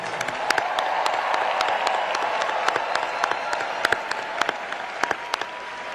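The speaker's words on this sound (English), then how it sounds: "Please give them a warm round of applause." A university commencement audience applauds the graduating class, a steady, full wash of clapping with crisp individual claps popping out throughout, heard from within a large crowd.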